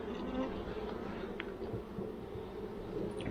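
A steady mass of honeybees hums and buzzes close by on a hive frame, a continuous droning swarm with faint background sounds underneath.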